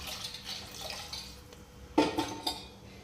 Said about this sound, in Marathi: ह्याच्यामध्ये गरम पाणी घालून घेते